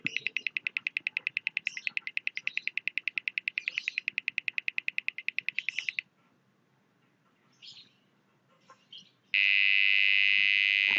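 An Arduino-driven piezo buzzer beeps in rapid, even pulses for several seconds, then after a quiet pause sounds a continuous high-pitched tone, shrill and close.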